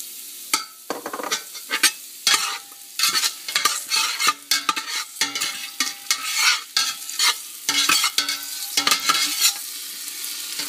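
Pork fries in a pan as sugar goes in, with frequent scraping stirs and clinks of a utensil over a soft sizzle, irregular and close, with no voices.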